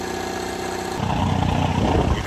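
An Onan MCCK marine generator on a Trojan F32 motor yacht idles steadily, then its note thickens and grows louder about a second in, running with a rough, pulsing hum as it pumps water out the exhaust.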